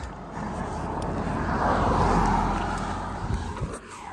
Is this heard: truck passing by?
yes